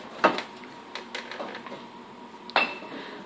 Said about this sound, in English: take the condenser cover off like this